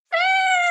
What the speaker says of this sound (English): You may hear some tiny meows in the background